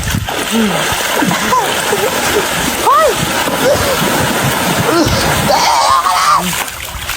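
Water splashing repeatedly during a playful water fight, with choppy bursts of splatter mixed with excited shrieks and yelling voices throughout.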